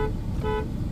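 A car horn honks twice in short bursts, close and fairly loud over steady road and engine rumble from a car driving in Abu Dhabi.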